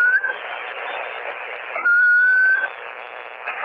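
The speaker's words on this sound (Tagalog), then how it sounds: "May sumisipol na." Whistling comes through a ham radio channel over a steady band of static hiss, with a clear sustained tone that swells louder in the middle.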